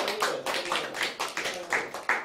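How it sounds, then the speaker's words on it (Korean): A church congregation applauds during a talk, with hands clapping in rhythmic, fairly close bursts that rise and fall repeatedly over a couple of seconds. "다시 한번 박수해 주십시오."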